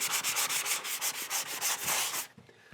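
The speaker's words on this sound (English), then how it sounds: "now we're sanding the extra mud off" Continuous rhythmic scratching from sanding dried joint compound off a wall by hand in circular motions, a steady loud repeating rasp that stops abruptly near the end.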